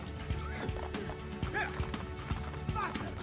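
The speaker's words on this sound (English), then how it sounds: "Get on the horse, Ezio." Horse hooves clop in a steady rhythm while a horse whinnies a few times, set against a busy Assassin's Creed 2 game soundscape with background voices.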